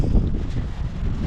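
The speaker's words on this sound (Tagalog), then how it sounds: "Ito ang hangin dito sa Goat Flip, Atok Benguet." Strong wind blows at Goat Cliff campsite on Mt. Olis, Atok, Benguet, a low continuous roar buffeting the microphone with rumbling gusts and no voices.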